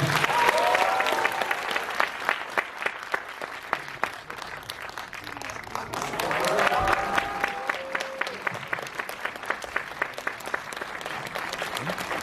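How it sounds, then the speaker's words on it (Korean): A packed cinema audience at a stage greeting applauds the film's director and cast, with continuous clapping and occasional cheers or excited voices rising over it, swelling midway. "큰 박수 부탁드립니다."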